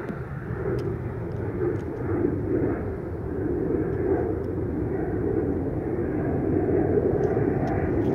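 A Qantas Airbus A380-800 jet takes off down the runway, a steady, loud roar of engines building gradually and holding through the whole run, heard from a distance with no talk.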